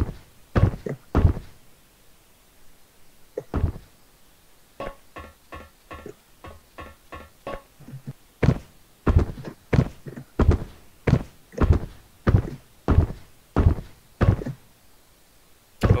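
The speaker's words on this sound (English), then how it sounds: "are you hearing the footsteps?" Footsteps thud in a steady, evenly spaced rhythm, close and fairly loud, with a few lighter knocks and scuffs between them and a quieter stretch of softer, quicker taps in the middle.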